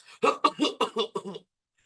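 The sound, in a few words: cough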